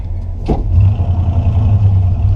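An older car with a three-on-the-tree column-shift manual pulls away quickly from a stoplight, its engine giving a steady low drone after a brief sharp click at the start, close and alone with no voices.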